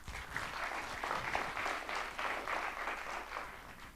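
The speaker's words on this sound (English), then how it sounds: "let's give that a round of applause" Audience applause at a personal branding talk, a steady wash of clapping from a sizeable crowd that holds at an even level throughout, close and full with no voices over it.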